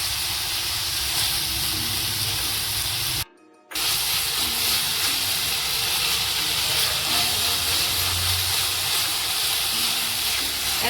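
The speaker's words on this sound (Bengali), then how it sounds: "মটনটা হালকা হালকা ভেজে নিয়েছি, এবার আদা রসুন বাটা দিয়ে দেবো।" Mutton fries with ginger-garlic paste in a pan, a loud, steady broadband sizzle and hiss close up that runs almost continuously, cut only by one brief silent gap.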